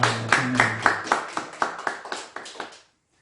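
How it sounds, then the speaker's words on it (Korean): Members of a church congregation clap together during a worship service, a run of about eleven sharp, fairly regular claps that fades out quickly into silence. "위로와 격려의 박수 할 수 있기 바랍니다"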